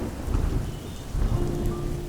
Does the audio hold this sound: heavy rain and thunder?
yes